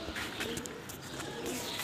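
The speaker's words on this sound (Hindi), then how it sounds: "ये मेरे कबूतर हैं ब्रीडर जो करने लगा शिफ्ट।" Breeder pigeons in a loft cage coo softly and steadily over a constant murmur of birds, with brief higher chirps scattered throughout.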